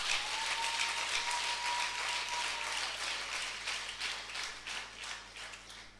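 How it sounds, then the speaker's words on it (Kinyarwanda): Applause from a church congregation fills the space as a steady wash of many hands clapping, moderately loud and continuous, fading slightly toward the end, with no speech over it. "Dukomere Imana amashyi menshi."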